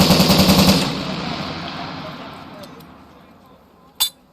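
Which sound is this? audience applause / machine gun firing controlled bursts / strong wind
machine gun firing controlled bursts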